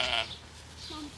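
A lamb gives a single short, close bleat at the start, followed by quiet farmyard background.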